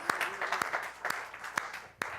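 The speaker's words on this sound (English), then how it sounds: "Yeah, that's worth a round of applause" An audience claps in applause, with sharp individual hand claps standing out over a softer spread of clapping, moderately quiet and continuous.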